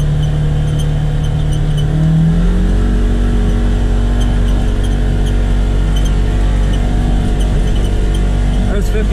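A Polaris Ranger XP1000 side-by-side with a new Hunterworks drive belt holds a loud, steady engine drone that steps up in pitch early on as it revs higher, with someone talking over it.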